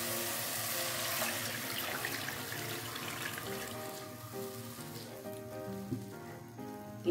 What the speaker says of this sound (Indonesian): Terus tambahkan dengan air